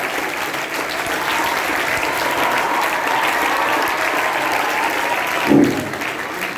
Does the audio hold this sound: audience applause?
yes